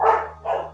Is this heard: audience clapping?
no